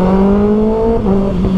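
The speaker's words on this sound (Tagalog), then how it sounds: "grabe umahatak yung bike" A 2024 Kawasaki Ninja ZX6R inline-four sport bike with an open aftermarket exhaust, ridden in rain mode, accelerates with a loud, close, continuous engine note that climbs steadily in pitch, then dips and rises again as it pulls through the gears.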